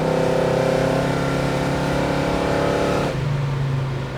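Big-block V8 engine of a 1970 Chevrolet Chevelle SS revving hard and loud up close, a deep rumbling roar that drops off abruptly toward a lower idle near the end.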